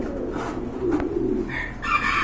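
Lahori pigeons kept for sale cooing close by, a few soft throaty coos in succession over a steady background hum.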